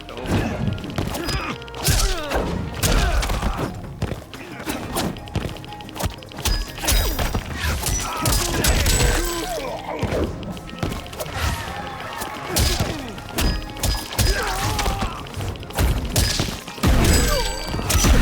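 Punches and kicks landing in a Mortal Kombat 1 story-mode fight: rapid, dense thuds and smacks in bursts, with game voices, grunts and music layered through the whole scene.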